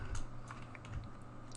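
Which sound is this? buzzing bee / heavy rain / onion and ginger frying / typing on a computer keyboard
typing on a computer keyboard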